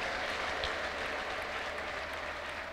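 Church congregation at a prophet's service applauding in a dense, continuous wash of clapping, steady and fairly loud throughout, with no distinct ululation standing out.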